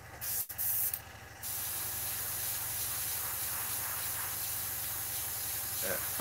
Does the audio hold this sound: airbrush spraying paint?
yes